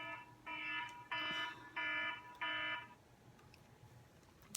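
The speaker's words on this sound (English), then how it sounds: "That's my husband's work alarm going off." A work alarm going off indoors, four evenly spaced electronic beeping tones in a regular rhythm, fairly faint and at a slight distance, then quiet room tone.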